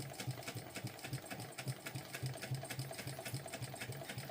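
A sewing machine bastes the lining panel of a sling bag along the seam allowance, its needle running in a steady rapid chatter with regular pulses, close and alone.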